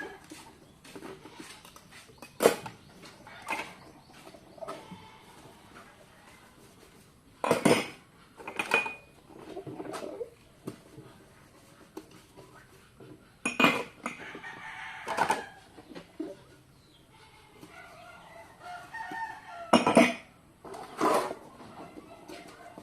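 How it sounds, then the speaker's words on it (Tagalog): Plates, spoons and serving dishes are gathered up during house cleaning, with sharp scattered clinks and clatters of cutlery and dishware spread through a quiet background where a rooster crows faintly at times. "Mga pinggan, kutsara, mga sinisilan sa mga nilulutong ulam."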